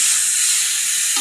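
Mushrooms cooking with water in a pan give off a loud, dense, steady sizzle and hiss. The sound is close and unbroken, with a faint stir near the end.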